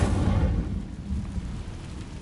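A fire spell cast in Hogwarts Legacy, heard as a steady low roaring rumble of flames that fills the whole moment at moderate loudness and eases slightly toward the end.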